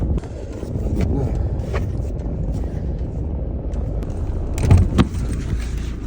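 A bunch of car keys jangles and clinks close up in bursts, loud over a steady hum of an idling car, with a sharper rattle near the end.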